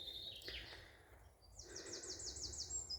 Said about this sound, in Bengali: শ্রুতিমধুর একটা ডাক শোনা যাইতেছে পাখির এই জঙ্গল থেকে।